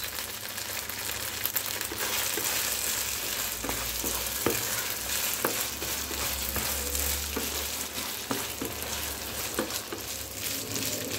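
Rice frying in a pan over medium heat for a Turkish pilaf with chickpeas and chicken breast, sending up a steady, loud sizzle with occasional stirring scrapes and clicks and no talking.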